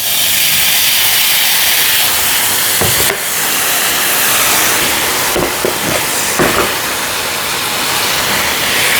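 Vinegar poured into a hot pan of bacon drippings, a loud sustained hiss and steam roar with a few sharp crackling bursts, close and unbroken, with no talking.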